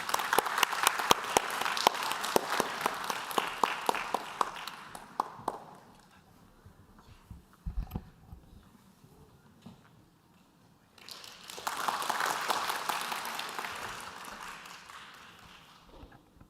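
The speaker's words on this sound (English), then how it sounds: "Please welcome him with a big round of applause." A conference audience at an international world harmony gathering applauds a speaker: a burst of crowd clapping fades out, a quieter lull follows, then a second wave of applause rises and tapers off.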